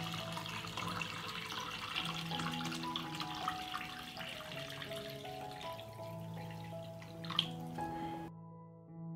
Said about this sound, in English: I pour water into the pot up to the height of the pot.